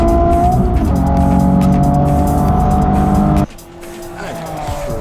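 A Nissan drag racing car roars loudly along the strip at speed, a sustained engine drone with tire noise that cuts off abruptly partway through, leaving quieter, more distant engine sound behind.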